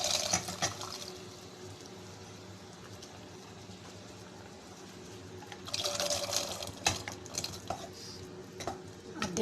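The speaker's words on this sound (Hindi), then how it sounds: "इसी पानी के साथ मैं इसका को ग्रेवी में शामिल करूँगी। अब हम लोग इसको ग्रेवी में शामिल करेंगे।" Boiled red beans and their cooking water go into a curry gravy in a pan, a soft pour and gentle stirring with faint utensil scrapes, a busier burst of liquid and clatter partway through, quiet and close.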